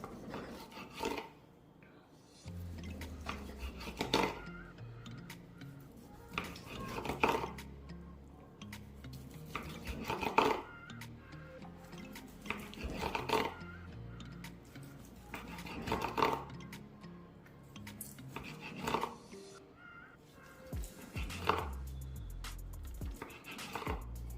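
A knife slicing smoked tri-tip on a board makes a series of regular, close, soft rasping strokes and taps, each a few seconds apart, with no talking.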